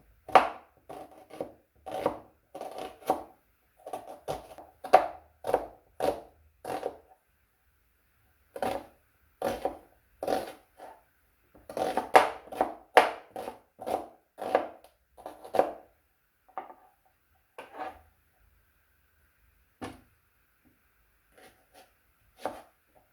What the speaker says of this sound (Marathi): आता आपण कांदे चिरून घेऊया.